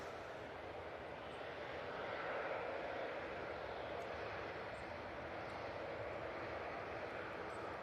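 A TUI passenger jet departs Manchester Airport, its engines a broad, distant roar that swells slightly and then holds steady throughout.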